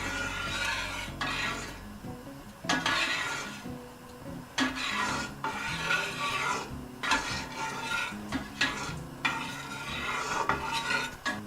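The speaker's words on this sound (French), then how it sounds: "On va faire un troisième brassage tout en réchauffant le lait jusqu'à 35 degrés." Curd being stirred in a pot of milk heated toward 35 degrees for cheese making, with repeated scraping and sloshing strokes against the pot in bursts, close and fairly loud, no talking.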